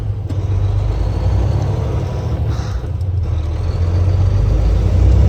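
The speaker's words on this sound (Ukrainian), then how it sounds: "Шкільний автобус вирішив поїхати" A school bus rumbles steadily nearby, its low engine drone swelling slightly as it pulls away, with no talking.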